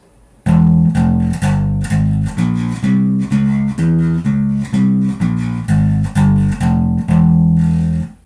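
A heavily distorted electric bass plays a metal riff in the E mode, built on the seventh degree of the harmonic minor scale: a loud, even run of about fifteen chugging notes, played alone.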